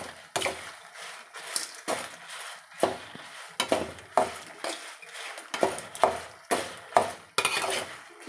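Green chillies stir-fried on low heat in a pan for making drumstick-leaf spice powder, giving repeated scraping, clinking stirs at an even rhythm, close and moderately loud with no one talking.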